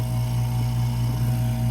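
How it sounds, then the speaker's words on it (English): A vacuum pump running with a steady, loud, unchanging motor hum and drone, no breaks or other sounds. "let me get up here and vacuum this right quick"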